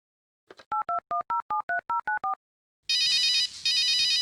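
Telephone dialing in the video game Runaway: A Road Adventure: a quick run of about nine touch-tone key beeps in steady rhythm, followed by a loud, clear ringing tone that pauses briefly and resumes.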